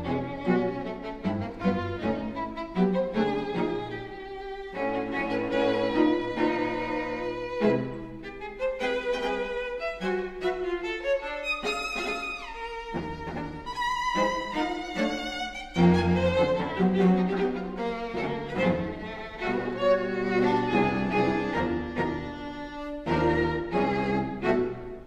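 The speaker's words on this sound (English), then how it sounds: "The example we're going to listen to of one of Schoenberg's pieces is String Quartet No" A recording of Schoenberg's String Quartet No. 4 from 1936 plays, with angular twelve-tone lines on violins, viola and cello moving through shifting, dissonant phrases at moderate volume, uninterrupted by speech.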